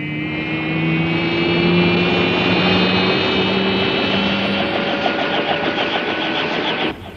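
A model helicopter flies in the Thunderbirds puppet series, giving a steady, loud whine with a droning engine tone that holds for several seconds and then cuts off, with no voices over it.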